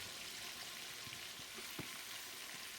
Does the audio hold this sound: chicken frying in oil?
yes